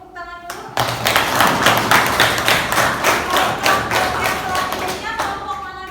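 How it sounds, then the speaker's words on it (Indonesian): Classroom students clap their hands together in a dense, sustained burst of applause lasting several seconds, with a voice speaking briefly just before and after. "Beri tepuk tangan dulu."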